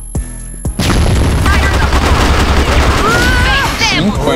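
Grenade blast and gunfire in the online shooter CrossFire: a few sharp shots, then a sustained loud explosion rumble with chirping, whistling effects and faint voices underneath.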